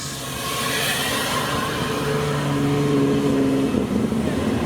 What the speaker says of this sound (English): So everyone is just slowly rolling out from the show.